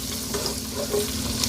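Minced garlic cloves frying in a pan over lowered heat, a steady close sizzle with faint stirring scrapes as they are moved around.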